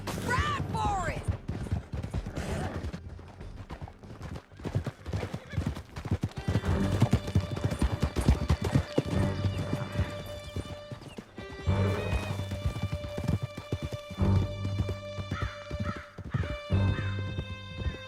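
A horse gallops in Red Dead Redemption 2 during a canyon escape, with steady, close hoofbeats that carry throughout and occasional neighs, while game music and ambient sound play underneath.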